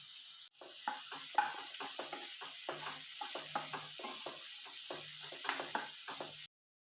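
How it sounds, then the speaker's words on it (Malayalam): Chopped onions sautéing with spices in a pan over a medium flame, a steady close sizzle broken by repeated scraping and stirring strokes throughout, with no talking. "ചെറുതായി അരിഞ്ഞു വെച്ചേക്കുന്ന സവാള ചേർത്ത് മീഡിയം ഫ്ലെയിമിൽ വെച്ചതിന് ശേഷം ഒന്ന്"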